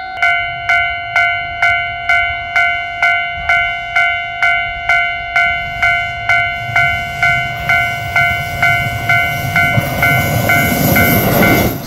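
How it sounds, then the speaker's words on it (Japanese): A railway crossing bell rings in a steady repeated rhythm, then a one-car Senmo Line train in Hokkaido rumbles past close by, the rolling noise swelling loudly at the end. "かわいい一両列車の釧網本線"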